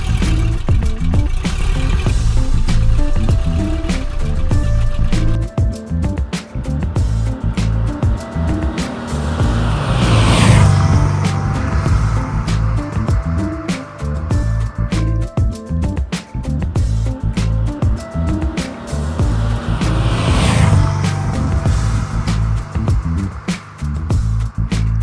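A Porsche 356B on the road, its small engine droning steadily with rising and falling revs through gear changes, loud and close from inside the car.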